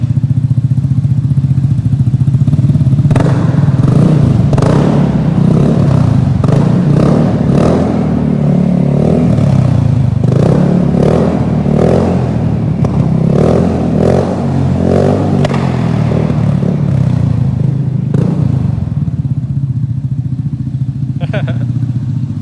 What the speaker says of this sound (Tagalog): you can hear the 300cc underneath the chassis because of the exhaust system